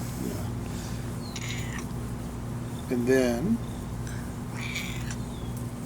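A house cat meows briefly partway through, a short wavering call heard close by beneath ongoing conversation between people talking.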